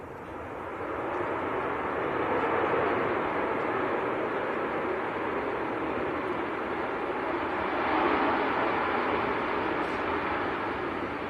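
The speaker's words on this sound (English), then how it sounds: "next to land, it's a naked TUI coming in from Preveza" TUI Boeing 737-800 from Preveza landing at Manchester Airport on a windy day, a broad steady jet roar that rises in from the start and holds loud and fairly near, no talk.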